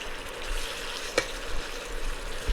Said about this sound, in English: I'm going to give it a stir. I'm just going to stir this.